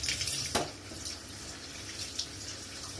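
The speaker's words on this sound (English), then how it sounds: "No, you must wash your vegetables. Yep. Wash them thoroughly." Vegetables are washed under a running tap while cooking coconut curry fritters: a steady, fairly faint rush of water with a brief splash near the start.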